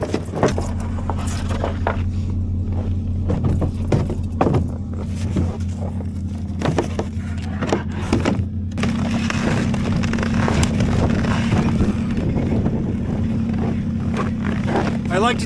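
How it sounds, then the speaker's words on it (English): A snowmobile engine idles to warm up in brutal minus-42-degree cold, a steady low droning hum that holds through the whole stretch, with scattered clicks and handling noises over it. "I love to let my snowmobile run for a very long time before I take off, especially when it's this cold."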